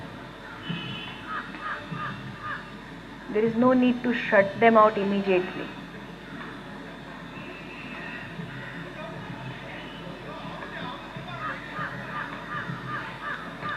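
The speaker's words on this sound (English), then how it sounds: "You can hear the crows" Several crows caw in a short, loud burst partway through, over steady outdoor background noise while a person talks.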